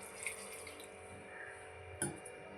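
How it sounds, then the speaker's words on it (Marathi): Water runs steadily from a vessel into a pressure cooker holding washed vegetables, a soft continuous trickling pour with one brief knock near the end. "त्याच्यामध्ये मी 1 तांब्या पाणी टाकत आहे"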